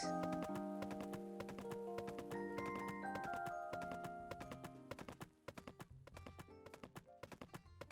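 A horse's hooves clip-clop in the farming video game Pumpkin Days, a steady run of crisp taps emerging after a stretch of tonal game music and continuing alone to the end.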